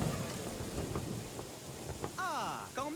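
Heavy Breton rain pours steadily in a broadband wash, with low rumbling thunder beneath and a few sharp cracks; near the end, swooping whistle-like tones rise and fall over the downpour.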